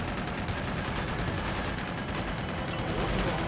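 Gunfire in Uncharted 2 during an attack on a village, a dense continuous wash of distant shots and battle noise that stays steady and fairly loud throughout.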